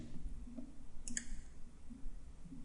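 A computer mouse gives two quick close clicks, faint against a low steady background hum, with no talking.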